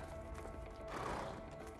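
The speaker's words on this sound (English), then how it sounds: "Vincent, first we release the horses" Horses neighing and galloping in the video game A Way Out, a muffled, dense rush of hooves and whinnies at a moderate distance.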